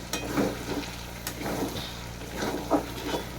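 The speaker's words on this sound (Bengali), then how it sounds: "তেল একদম জব জব জব জব করছে দেখছেন মাছের তেলে" Onion stalks fry in fish oil in a pan, giving a steady close sizzle with bursts of louder crackling and stirring scrapes, no talking.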